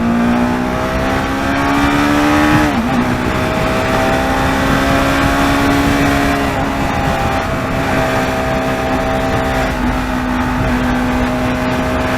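An Apache RR 310 motorcycle cruises on a highway, its engine droning steadily and loudly with a brief rev change near the start, wind rush layered over the steady hum and no talking.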